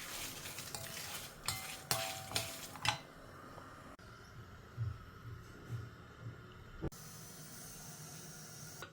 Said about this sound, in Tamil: கடுகும் ஜீரகமும் பொரியிற சத்தம் கேட்க ஆரம்பிச்சுடுத்து